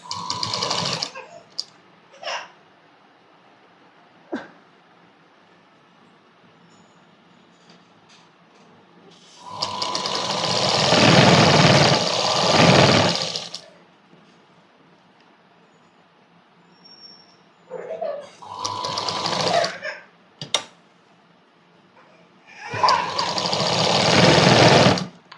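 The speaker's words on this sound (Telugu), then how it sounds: "స్టిచ్ వేసుకోవాలి దీని మీద." A sewing machine stitches along the neckline of a Punjabi dress, whirring in loud sustained runs of a few seconds each, split by short clicks and quiet pauses.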